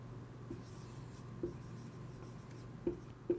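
Pen writing on paper, a soft, quiet scratching with a few small taps from the pen against the page, close and faint over a steady low hum.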